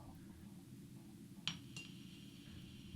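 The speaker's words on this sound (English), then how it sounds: "Alex spun to the sound of a bottle's clink" A glass bottle clinks twice in quick succession, sharp and fairly close, over a low, murmuring ambient rumble, used as a sound effect in a fantasy audiobook.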